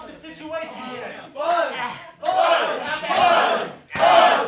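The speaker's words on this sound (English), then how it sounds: "The crowd is buzzing" Wrestling match crowd cheering and shouting in loud surging bursts, several swells of roaring voices separated by brief lulls.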